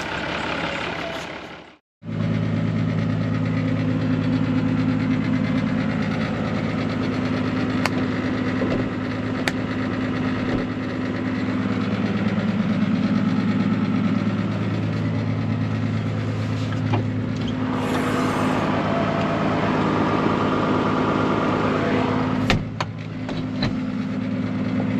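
A tractor engine drones steadily while disc harrowing sunflower stubble in a field, a loud, close, continuous hum with a brief cutout near the start.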